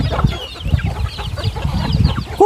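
Chickens cluck in agitated, rapid bursts while being chased on a rural farm, the flustered calls overlapping close by, ending with a sharper squawk; no one speaks.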